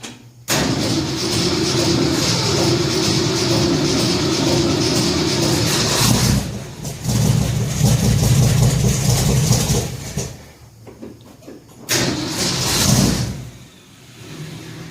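A 1966 Ford F100 shop truck engine catches abruptly and runs loud and rough, drops away briefly near the end, then picks up again, close to the microphone with nobody talking.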